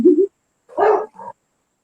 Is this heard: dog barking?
yes